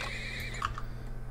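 A horse in the video game Turmoil gives a short neigh right after horses are bought, a brief whinny over a steady background hum, with faint clicks around it.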